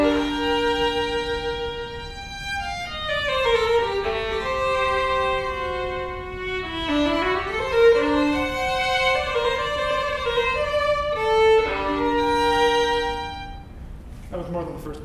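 Opening bar of a J.S. Bach piece played on a melodic instrument, a clear flowing line of sustained notes rising and falling steadily, close and moderately loud with no voices.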